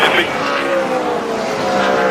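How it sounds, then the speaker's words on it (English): NASCAR race cars roar and tires squeal as a big wreck unfolds at the finish, with loud engine noise and skidding under an excited commentator's voice. "a terrible crash coming to the finish. This is a big wreck."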